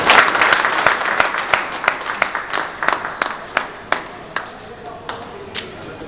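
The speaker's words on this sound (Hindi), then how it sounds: "साथियों तालियां" Applause at a railway retirement function in Jammu: a burst of crowd clapping that thins into scattered, distinct individual claps, fading toward the end, with some voices murmuring underneath.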